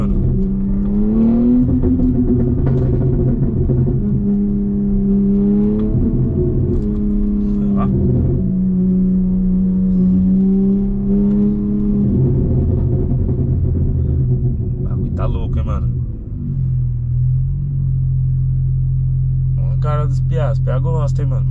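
A green Porsche sports car's engine rumbles loudly and steadily nearby, its pitch rising and falling as it revs, then dropping to a low idle, while voices chatter faintly.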